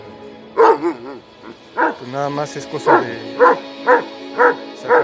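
An injured female Doberman puppy barks and whimpers in a string of repeated yips and short barks at close range, with a person talking over parts of it.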